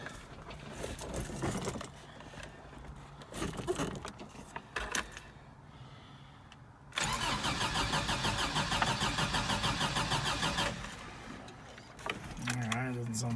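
A Toyota 22R engine is cold-started: a starter cranks in uneven bursts, then the engine catches and runs at a loud, steady, rough idle. Keys may jangle, and there seems to be some background speech.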